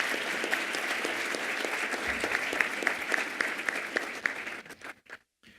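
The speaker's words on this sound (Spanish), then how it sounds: "a quien le damos un fuerte aplauso para escuchar su conferencia." Conference audience applauding a financial services speaker at a university, dense sustained clapping with some individual claps standing out, tapering off and stopping abruptly near the end.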